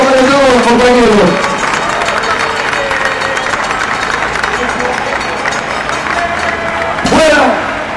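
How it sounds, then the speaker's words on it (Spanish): A large crowd at a national public workers' strike rally applauds, a loud sustained wash of clapping and cheering that holds steady, while someone speaks over it at the start and again near the end. "Un aplauso muy grande y un reconocimiento para todos los compañeros."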